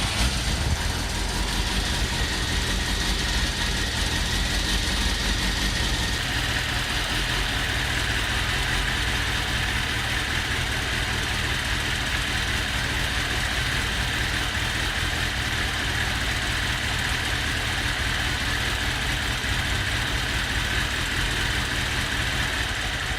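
A 1999 Kawasaki ZX6R G2 Ninja motorcycle engine idles with a steady, even drone, close by and unbroken throughout, with no talking.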